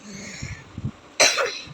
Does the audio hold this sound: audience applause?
no